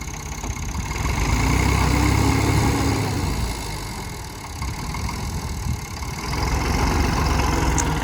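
A tractor stuck in mud runs nearby with a loud, rumbling diesel drone that swells and dips as it labors, steady throughout with no talking.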